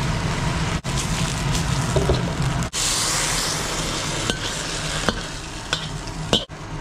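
Pork stewed in a wok with green pepper and seafood soy sauce in a rural kitchen, with steady loud close sizzling and bubbling broken by several sharp clanks of a utensil against the wok.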